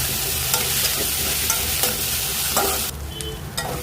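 Ground masala paste with onion sautéed in a pan for a cluster bean curry, giving a loud continuous sizzle with spatula scrapes that drops noticeably quieter near the end; no voices.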